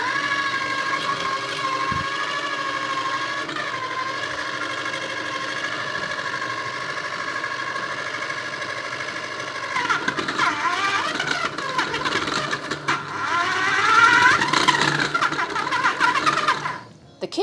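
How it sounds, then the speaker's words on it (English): A KitchenAid stand mixer runs with a steady motor whine and hum, rising and growing rougher and louder near the end before cutting off. "The KitchenAid is a reliable kitchen appliance."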